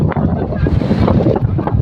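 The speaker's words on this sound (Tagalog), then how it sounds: "medyo malakas yung alon ha" Strong waves wash and churn in a bay at night, with heavy wind buffeting the microphone over a brief, rough stretch of surf.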